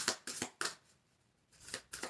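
Tarot cards shuffled by hand in a few quick riffling bursts, close and fairly soft, with a short quiet gap in the middle and no talking.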